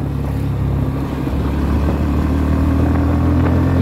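Bajaj Pulsar NS160 motorcycle engine revving up under acceleration, a loud, close, steady drone whose pitch shifts and climbs partway through, running continuously with no talk.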